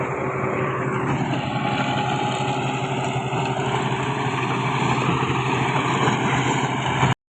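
A Kubota MU 5502 tractor engine runs in low gear, a loud, steady close rumble with a constant whine above it, continuing without talk until an abrupt stop.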